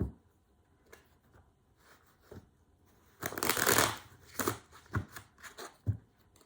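Tarot cards being shuffled in quick riffling bursts, louder in the middle, with soft taps and pauses between.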